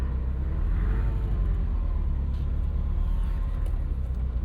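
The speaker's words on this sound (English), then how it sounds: "We're gonna go into reverse first, back away from this big mound of dirt." A 1980 Ferrari 308 GTBi with a gated 5-speed idles low and steady as it backs away from a big mound of dirt, a close, constant engine rumble with no sharp revving.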